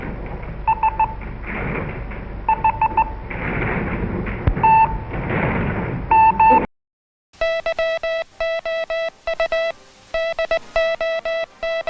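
Morse code beeps sent by radio in Second World War training: clipped tone dots and dashes in rhythmic groups, first over a rough hiss of noise, then sharp and clean against silence.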